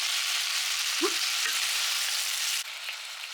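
Beef pieces and onions sear in a pan on a hob set to nine, a steady broadband sizzle with a couple of soft knocks near the middle. The hiss drops slightly in level toward the end.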